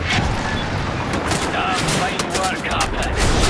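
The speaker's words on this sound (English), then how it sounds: "I'm getting shot from up here." Dense, continuous gunfire from the video game Wolfenstein: The New Order, sustained loud bursts of shots over a rumbling backdrop with no pauses.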